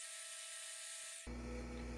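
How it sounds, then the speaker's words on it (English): A drill bites into metal to cut a small centering dimple, a sudden loud grinding whir starting partway in after near silence, close up. "Here I'm drilling just a little dimple into this so that the threaded rod will tend to center on the dimple"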